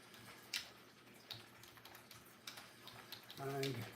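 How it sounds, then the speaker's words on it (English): Quick bursts of keystrokes tapped on a computer keyboard, close and soft, in an irregular rhythm, followed by a short tonal chime near the end. "You guys want to watch me type real quick?"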